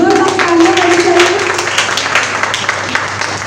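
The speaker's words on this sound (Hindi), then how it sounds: "एक बार जोरदार तालियां होनी चाहिए।" Audience applause at a stage performance of the drama Doli, dense clapping sustained throughout, with a voice carrying over it in the first half.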